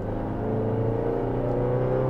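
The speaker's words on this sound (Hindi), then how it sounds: "इंजन की आवाज़ मैं महसूस कर रहा हूँ, और जब इंजन हाई लोड पे है तब पैडल में हल्की फुल्की वाइब्रेशन भी फील हो रही है" An SUV engine labours under high load on a hill climb, its steady deep drone rising gradually as the vehicle pulls upward, with no talk over it.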